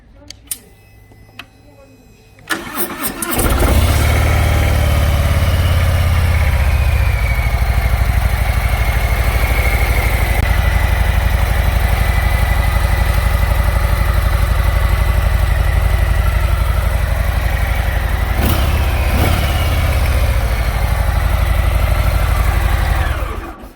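A 2020 Harley-Davidson Softail Deluxe with stock chrome exhaust idles after starting up, a loud, deep, steady rumble close by that runs for about twenty seconds before cutting off, with a few clicks and handling noises before it fires.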